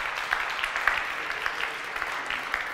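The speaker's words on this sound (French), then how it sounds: "Vous pouvez vous applaudir" Audience applause at a university education conference, a steady, fairly distant patter of many hands filling the room without voices on top.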